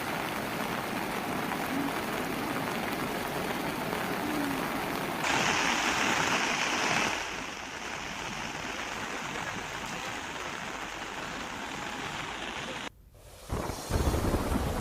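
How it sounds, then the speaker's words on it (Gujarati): A monsoon-flooded river in south Gujarat runs over both its banks. Its rushing roar is steady and broadband, swells midway and breaks briefly near the end. "નદી બંને કાંઠે વહી રહી છે."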